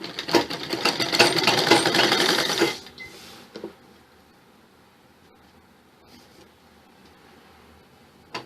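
Sewing machine stitching a frock runs in a fast, steady burst for under three seconds, then stops, leaving faint handling clicks in a quiet room.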